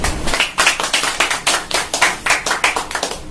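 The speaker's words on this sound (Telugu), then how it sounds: "మనందరికి వచ్చినందుకు ఒక్కసారి వాళ్ళందరికీ క్లాప్స్ కొట్టాం." An audience at a food and blanket donation event for disabled people's and children's homes claps together in quick, fairly regular beats for a few seconds, loud and close.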